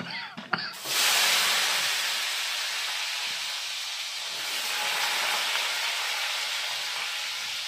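Potatoes frying in a hot pan with black cumin, giving a loud, steady broadband sizzle that begins abruptly after a brief clatter and holds evenly close up, with no talking.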